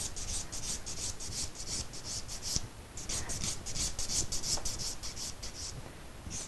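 A file rasps steadily across an acrylic nail while it is bevelled, close and continuous, with quick back-and-forth strokes and one short pause.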